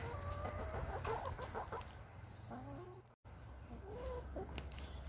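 A flock of about 22 hens of mixed breeds clucks softly while eating crimped oats outside a coop, with a steady chorus of low murmuring clucks and occasional louder calls.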